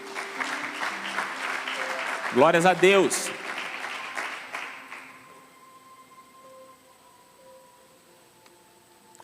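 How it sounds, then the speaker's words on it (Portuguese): Congregation applauding during a church service, a brief burst of clapping under a preacher's voice that fades out, leaving a quiet tail with faint tones. "aplauda o Senhor"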